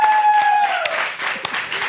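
An audience applauds for Mercedes Ron, the novelist, on a talk show set. The clapping is a steady, fairly close wash throughout, with a tone that slides down in the background near the start.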